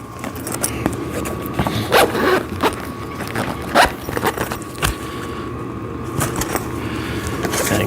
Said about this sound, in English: And then you want to zip this up.